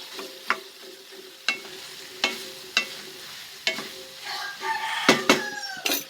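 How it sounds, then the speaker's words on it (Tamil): Tomatoes and potatoes sauté in a pan for egg curry, a soft frying sizzle with regular spoon scrapes against the pan, close and without speech; a rooster crows faintly in the background. "தக்காளி உருளைக்கு நல்லா வதங்கட்டும்"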